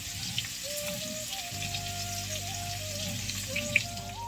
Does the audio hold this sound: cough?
no